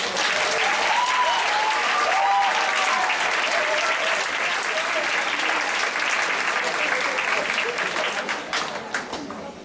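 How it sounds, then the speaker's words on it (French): A room claps loudly and steadily for participants in a head-shaving fundraiser for Leucan, with a few voices calling out over the dense applause before it thins toward the end. "On peut les applaudir très fort."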